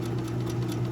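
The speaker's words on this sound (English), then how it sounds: "So now I'm going to sew all the way down, taking the pins out as I sew" A sewing machine running a simple stitch down the inseam of an 18-inch doll garment, a close, steady mechanical whir with a rapid even needle pulse lasting the whole short moment, with no talking.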